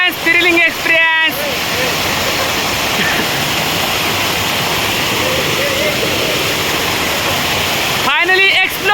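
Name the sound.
Paritewadi waterfall in the Sahyadri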